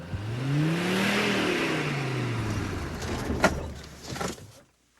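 A Mercedes G-Wagon engine revs up under throttle and then falls away, the pitch sweeping upward and down again. Sharp mechanical clunks follow near the end before a short silence.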